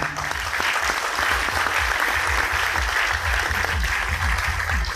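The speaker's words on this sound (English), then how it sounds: "Guys, firstly, round of applause for this man." A crowd at a live food judging event gives Marco Pierre White sustained, even applause, a thick wash of many hands clapping steadily throughout.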